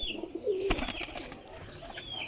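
Pigeons coo softly nearby, a low throaty call rising briefly, with faint chirps and a light background rustle in a quiet setting.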